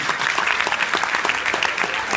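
Auditorium audience applauding at a talk, a dense continuous patter of many hands clapping at close range and fairly loud, with no pauses.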